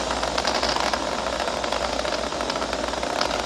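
Nine Merlin engines of a Falcon 9 first stage thundering during ascent from pad 39A at Kennedy Space Center, a continuous dense broadband roar with crackling texture, loud and unbroken throughout.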